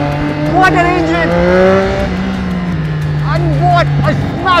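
A Triumph motorcycle engine drones steadily under loud, excited talk. The engine stays a near, sustained hum throughout.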